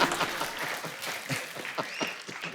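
A studio audience claps at a lively clip, a quick crowd of hand claps that lasts for the whole moment with no voices over it.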